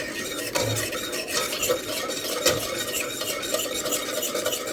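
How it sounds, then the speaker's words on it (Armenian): Cream thickened with two tablespoons of corn starch is briskly stirred in a pot on a gas stove, a steady close scraping and swishing of the spoon with light clinks against the pot, no voices. "ավելացնում ենք 2 ճաշի կտալ եգիպտացորենի օսլա ու արագ խառնում ենք"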